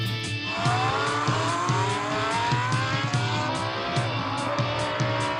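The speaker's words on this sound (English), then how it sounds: "Then the little car raced wildly up the hill and back to the road." A small car from a children's read-along story races off with a steady revving engine drone and rising, sweeping whine, loud and continuous with no talking.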